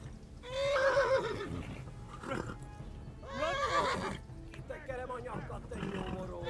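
Horse in Kingdom Come: Deliverance gives two loud, close whinnies a few seconds apart, followed by a shorter snort, with faint hoof clatter and game ambience underneath.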